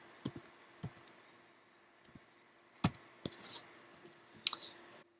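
A few scattered keystrokes on a computer keyboard while a short word is entered in SketchUp, with sparse, quiet clicks at irregular intervals and no one talking.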